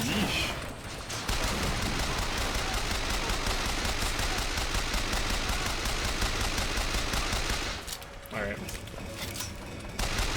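The Repeater machine gun in Bioshock Infinite fires a loud, sustained rapid burst lasting about seven seconds, followed by a short pause and then a few more shots, with a voice speaking briefly.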